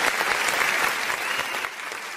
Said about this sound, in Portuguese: dá uma salva de palmas, porque hoje é aniversário do João Gabriel